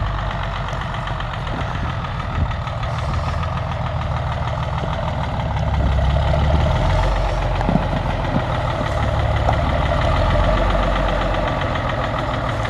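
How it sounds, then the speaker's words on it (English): A diesel engine on a 560 tractor idles steadily up close, a loud, rumbling, knocking chug that swells slightly midway. "It's a 560 282 diesel. Sounds really good."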